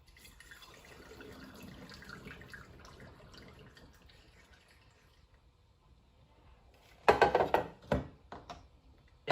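Liquid splashes and pours in short, loud bursts after a quiet stretch of faint background noise.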